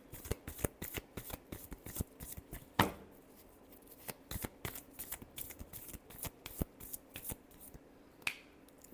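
Tarot cards are shuffled near and quietly, with rapid crisp riffling flicks in bursts and one sharper card slap partway through, and no talking.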